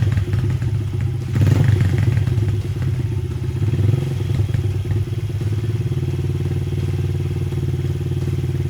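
A 2005 Honda CRF50 dirt bike engine running close and loud, rising in a rev around the second mark, then settling into a steady, buzzing rapid-fire idle, no talk.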